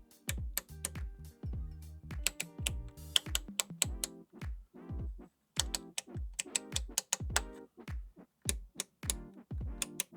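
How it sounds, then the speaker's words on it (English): Knobs on a DW Fearn VT-5 tube EQ are turned, producing a rapid series of crisp, close detented clicks in irregular bursts, quiet and alone. "Just listen to how these EQ knobs sound."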